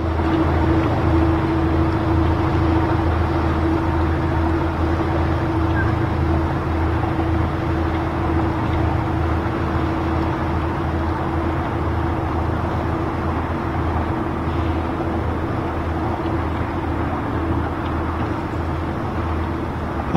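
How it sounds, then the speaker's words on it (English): Detroit Diesel engines on a 70-foot Hatteras casting off at Fort Pierce, a loud, steady droning roar with a sustained whine, continuous throughout without talk. "And you can hear those Detroits, that Jimmy scream."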